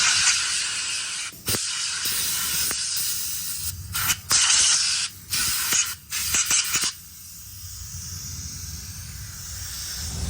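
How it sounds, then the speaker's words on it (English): Compressed air gun blowing debris out of a cover on a 2024 Harley-Davidson Road Glide, loud hissing bursts of air stopping and starting in several blasts, close up with no talk. "I'm just gonna grab the air gun, blow it all out"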